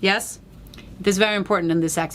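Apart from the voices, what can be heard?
No everyday noises stand out.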